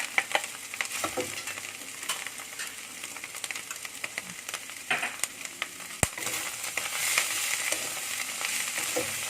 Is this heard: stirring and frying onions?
yes